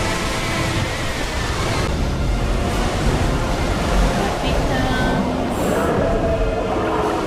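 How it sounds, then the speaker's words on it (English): A wall of rushing water from the film The Mummy Returns roars continuously and loudly, with a dense broadband surge and faint tonal effects layered over it, no speech. "I think they did this water wall really well."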